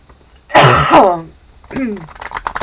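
A single harsh cough or throat-clearing bursts out close up, followed by a quieter stretch of brief vocal sounds.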